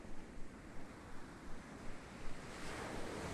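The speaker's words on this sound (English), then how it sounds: "You are standing on the beach." Ocean waves wash steadily onto a beach as a continuous, fairly close rush of surf with gentle rhythmic swells and some wind-like hiss, no voices.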